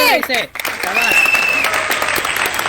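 A group of people clapping along at a home talent-challenge game, with bursts of applause running steadily after a brief pause, mixed with voices and a sustained tonal whistle.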